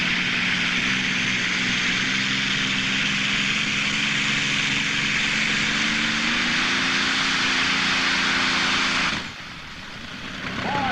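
A modified tractor named the Stinger, driven by Brody Smith at an NTPA pull in Inwood, Ontario, roars loud and steady with a droning whine for about nine seconds, then cuts off abruptly, leaving quieter background noise.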